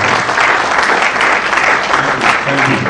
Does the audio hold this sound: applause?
yes